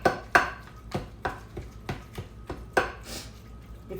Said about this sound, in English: So now I'm going to stir it up a little bit.